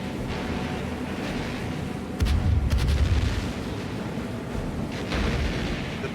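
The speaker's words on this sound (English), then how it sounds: "The big battleships and heavy cruisers lobbed 14-inch, 8-inch, and even 5-inch shells into any place that looked like it might be fortified." Battleships and heavy cruisers firing 14-inch, 8-inch and 5-inch shells in a 1945 naval bombardment, heavy booms rising out of a rumbling background, with a couple of louder blasts in close succession.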